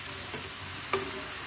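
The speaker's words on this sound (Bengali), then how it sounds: "যেটা এখন আমি সুন্দর করে ভেজে নেবো" Winter vegetables frying in oil in a pan: a steady soft sizzle throughout, broken by two brief stirring scrapes near the start and middle, close and fairly quiet with no talking.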